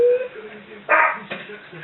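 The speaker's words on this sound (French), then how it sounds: "C'est lui que vous allez entendre japper dans mes vidéos." A small pet dog in a home kitchen gives a couple of short, sharp yaps close by, mixed with bits of a person's voice.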